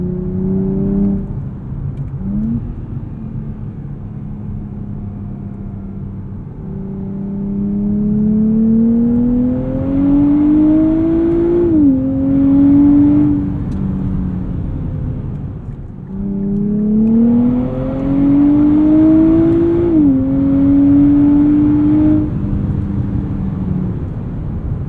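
A 2023 Nissan Z with a nine-speed automatic accelerates hard in Sport mode, its engine note climbing through two long rising pulls with brief dips at the upshifts, loud and steady from inside the cabin.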